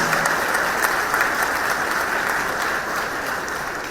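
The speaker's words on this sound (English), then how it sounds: "Give every educator a round of applause." A steady burst of applause from a large crowd at a political campaign rally, dense clapping that holds evenly throughout and fades slightly near the end.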